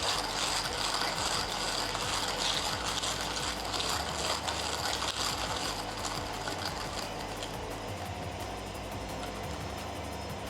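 A laundry machine runs loudly and steadily, with a churning, rattling mechanical drone that keeps going for the whole stretch. No one speaks.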